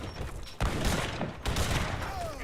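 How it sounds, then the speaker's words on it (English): Organ guns fire in a cannon fight in a strategy game, heard as a burst of rapid, crackling volleys in two loud waves, close and dense, with no speech over them. "So this will give him a faster fire rate, so that's why he's sticking with the organ guns instead of making culverts."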